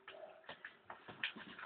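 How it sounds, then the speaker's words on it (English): A bird in The Walking Dead video game coos softly in a few short, low, rounded calls with small clicking sounds, faint and close. "Come here, you little bird."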